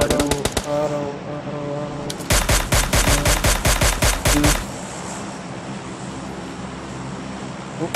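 Automatic gunfire in PUBG on Steam: rapid bursts of shots at the start, then a sustained loud volley of repeated rounds for about two seconds, fading into ambient game wind and distant sounds.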